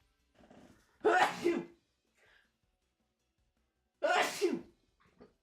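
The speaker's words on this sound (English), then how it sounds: "Oh, sneeze." Two sharp sneezes from a person about three seconds apart, each a loud burst with a breathy lead-in, with faint murmurs and small noises between them during a live game stream.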